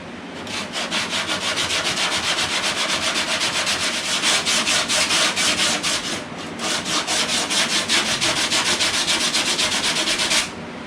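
Hand sanding on a car body panel during DIY bodywork restoration gives a loud, close, steady rasp of rapid back-and-forth strokes, running continuously with one brief break midway.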